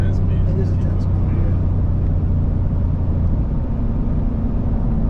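A 2024 Ford Raptor R pickup with a 10-speed transmission pulls hard under acceleration, its deep engine rumble droning steadily from inside the cab while people talk over it.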